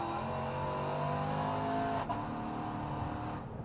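A supercharged 2017 Chevrolet Silverado pickup with a 5.3 V8 accelerates hard in tow/haul mode, its engine note loud and steady with a rising drone throughout, no talking over it.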